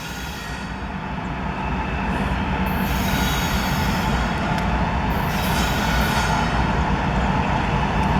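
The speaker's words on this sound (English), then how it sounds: "there's a train coming" A train rolls past at close range with a loud steady rumble, and high metallic wheel squeals rise over it from about the third second and keep going.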